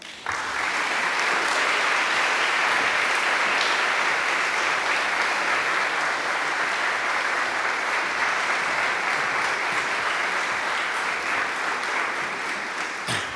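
A large audience claps steadily and loudly for a speaker being welcomed at a conference event, a dense continuous wash of applause lasting well over ten seconds with no talking.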